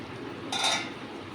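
A lid lifted off a pot of spinach cooking with potatoes gives one short metallic clink and scrape, moderately loud against a quiet kitchen background with no talking.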